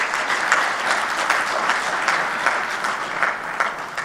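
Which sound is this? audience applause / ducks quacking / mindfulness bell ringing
audience applause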